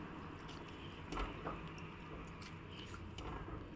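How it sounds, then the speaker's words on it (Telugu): Soaked tamarind and dried red chillies squeezed by hand in water for a Rayalaseema tomato rasam, giving soft, close wet squishing and dripping sounds that run steadily throughout. "ఇలా వాటర్ యాడ్ చేసుకున్న తర్వాత దీన్ని బాగా పిసుక్కోవాలి."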